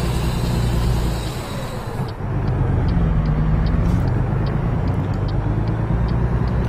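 A heavy truck in American Truck Simulator, hauling new cars toward Albuquerque, pulls away with a steady loud engine drone and rumble after a short dip in level, continuous and close throughout.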